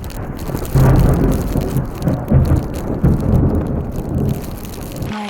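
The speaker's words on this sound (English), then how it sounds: "the rain is just coming down so hard" Heavy rain and gusting windstorm pounding a parked van, a loud continuous drumming roar on the roof and body with surging low rumbles as gusts rock the vehicle.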